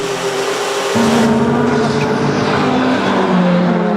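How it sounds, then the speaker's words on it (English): Audi, Porsche and Toyota prototype race cars at Spa's Les Combes, engines roaring loudly and continuously as the cars pass in quick succession, pitch and intensity shifting as they go by. "it's Audi 3 and 4 now with Porsche 1 and 2. Then the two Toyotas as they go through Le Combe"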